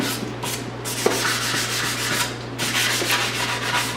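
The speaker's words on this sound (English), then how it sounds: "I'm just going to go over with sandpaper, all in the same direction." Sandpaper rubbed by hand in steady strokes along a motorcycle exhaust with a brushed finish on a Mini Stunter 125 build, a continuous close scratchy rasp with rhythmic swells and a low steady hum underneath.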